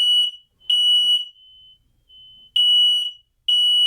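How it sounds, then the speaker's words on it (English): A nearby smoke detector shrieks in loud, shrill, high-pitched beeps, arriving in half-second bursts separated by short gaps, with a longer pause before the pattern repeats. "I feel sorry for headphones users and also me because the fire alarm is right here."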